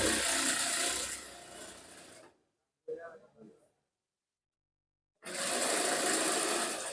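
A sewing machine stitches the elastic casing on a women's salwar pajama. Two close runs of whirring stitching are split by a pause with a brief faint rattle, and the stitching then resumes.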